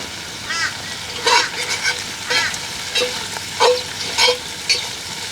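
Lamb's fry and mushrooms frying in butter in a camp oven sizzle loudly and close, broken by repeated bursts of stirring and scraping from a utensil against the cast iron.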